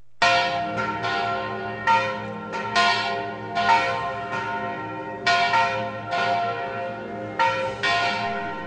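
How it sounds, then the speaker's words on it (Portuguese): Church bells toll from a tower during a religious procession in São João, ringing in loud irregular strikes with long resonant decay between them, close and alone. "Na torre, o dobrar dos sinos."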